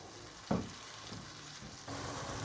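Browned onions being stirred in a pan for fish curry gravy, a soft continuous sizzle broken by a sharp scrape of the spoon and later scraping strokes.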